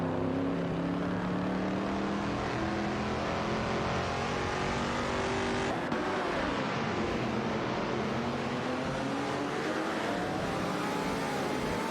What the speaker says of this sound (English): we're about to watch some virtual cars go vroom vroom. Racing car dashing away.